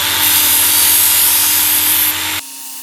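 A Work Sharp WSKTS-KO belt knife sharpener grinds a knife blade on a fine 3000-grit belt, a loud, steady abrasive whir with a high hiss that runs for about two seconds, then cuts off abruptly as the motor winds down.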